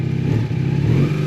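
Old motorcycle engine revving as the throttle is cranked open, a rough, loud mid-pitched engine note with slight clattering, heard close up for a brief moment.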